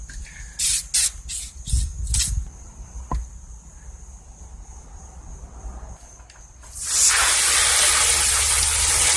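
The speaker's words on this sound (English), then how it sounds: "I'm going to spray this whole engine down with some degreaser here" A few short hissing bursts of degreaser sprayed on a Murray lawnmower engine, then quiet, followed by a long, loud continuous spray hiss close by.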